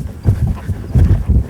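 A horse canters steadily with rhythmic, muffled hoofbeats in a repeating three-beat pattern, close and fairly loud.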